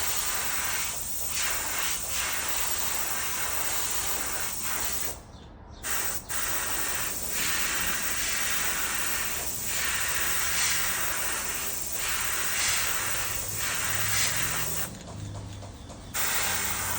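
An airbrush or spray gun lays down fluorescent neon yellow paint on a fishing lure, a continuous loud hiss broken by two short pauses between passes, with no voices.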